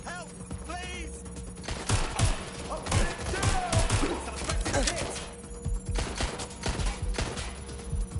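Gunfire in the video game Watch Dogs: Legion, rapid bursts of sharp shots in clusters over several seconds, fairly close, mixed with thuds and a steady background hum.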